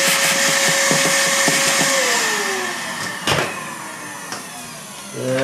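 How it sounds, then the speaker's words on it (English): A vacuum sucks up drilling debris from a guitar's bridge pin hole during a repair: a steady, close broadband whoosh whose motor whine slides lower partway through, with a few brief clunks near the end. "Vacuum up the stuff."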